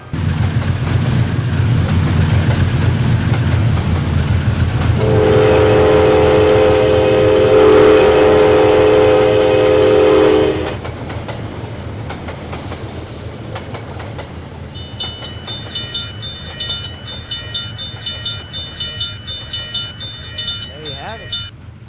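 A train in the video game Trainz 2012 rumbles steadily with a sustained whistle-like tone midway, then fades to quieter clattering with rhythmic mechanical ticking toward the end.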